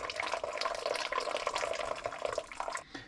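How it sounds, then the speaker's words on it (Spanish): Filtered coffee drips steadily from a chuspa cloth filter straight into a cup, a close, continuous trickle of liquid lasting a few seconds without talk. "el goteo puede ser constante y va cayendo ya filtrado el café directamente hacia nuestra taza."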